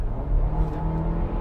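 Porsche Macan engine blipped up from idle, a low steady rumble that rises slightly in a brief rev before settling, heard close and alone.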